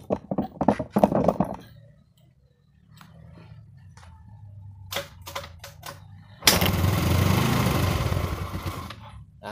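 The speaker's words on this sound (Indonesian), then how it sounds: "Dan motor hidup, tapi sebentar karena akinya udah kosong ya." Motorcycle engine started with jumper clamps on a nearly dead battery, catching after a few brief bursts and then running loud and steady for a few seconds up close.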